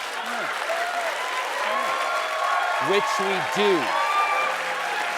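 Studio audience applause at a late-night comedy show taping, steady sustained clapping under a voice talking over it.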